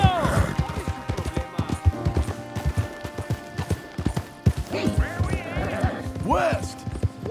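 Horse hooves galloping in Red Dead Redemption 2, rapid rhythmic clip-clop with occasional whinnies, under intermittent voices.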